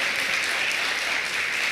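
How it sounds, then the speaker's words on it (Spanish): A church congregation claps together during a sermon, a brief dense burst of applause filling the room at steady loudness, with no voices standing out. "Si quiere aplaudir, aplauda"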